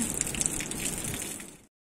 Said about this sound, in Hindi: ये परमानेंट पानी है कभी बंद नहीं होता ये पानी